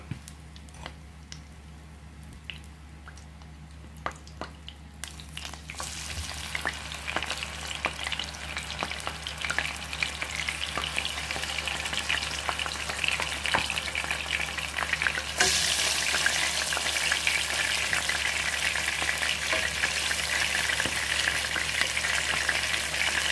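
Oxtail frying in a pan for Jamaican stewed oxtail, a dense continuous sizzle that builds louder and brighter as it goes on, with occasional soft stirring clicks and no voices.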